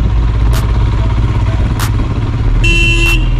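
Royal Enfield Himalayan motorcycle riding a mountain road stretch near Narkanda and Hatu Peak, Himachal, with a steady loud engine drone and wind rush throughout, plus a brief horn-like tone near the end; no talk.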